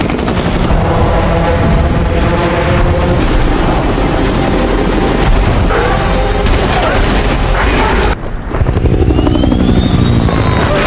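Helicopter rotor chop in an action scene from a zombie film, loud and continuous throughout with dense layered soundtrack effects, brief dip near the end before resuming.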